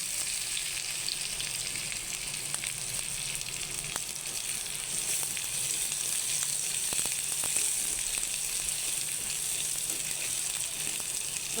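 Whole cumin seeds and garlic fry in hot oil with a steady, bright sizzle and faint crackles, close and continuous without any talking.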